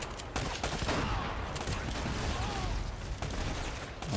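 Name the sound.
shotgun gunfire from enemies in the video game Uncharted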